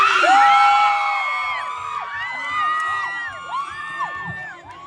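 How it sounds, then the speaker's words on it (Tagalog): A crowd whoops and yells together, high excited voices rising and falling in overlapping shouts that gradually fade. "Sumigaw lahat na nagagandahan kay Miss Reggie!"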